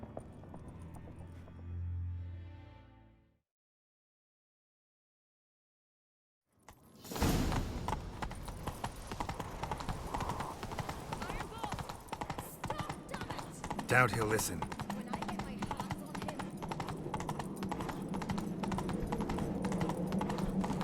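Horse hooves pound at a gallop in The Witcher 3, a steady loud clatter running for much of the stretch after a brief gap of silence, with someone speaking briefly near the start.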